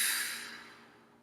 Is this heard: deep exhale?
yes